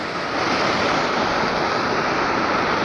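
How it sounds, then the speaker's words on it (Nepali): A waterfall near a house roars in a steady, dense rush of falling water, loud and close, with no break or voices over it. "ल हेर्नुहोस् गाइस हाम्रो घरतिरको झर्ना"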